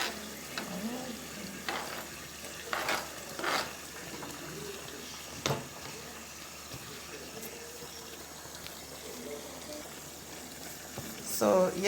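A pot of onion, sweet pepper, thyme and carrot simmers with a low, steady bubbling and soft sizzle, broken by a few sharp clinks and stirring noises.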